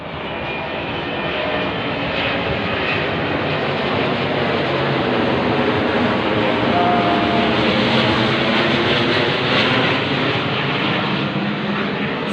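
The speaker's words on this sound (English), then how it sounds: "it's normal to have a flight path of planes, of an army aircraft all over my head" Army aircraft and planes passing overhead along a city flight path, a loud, steady engine roar that swells gently toward the middle and holds for over ten seconds with no talk.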